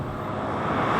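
A 2022 Hyundai Veloster N hot hatch with a dual-clutch transmission accelerates hard on throttle, its engine a steady, loud broadband roar that swells slightly toward the end, heard from inside the cabin.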